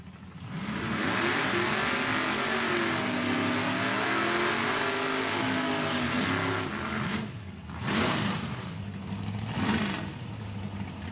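Two drag cars, a 1965 Pontiac Acadian and a 1986 Buick Regal, launch side by side in Real Steel Big Tire racing at Saskatchewan International Raceway, engines roaring loud and steady with rising revs and a couple of sharp surges near the end.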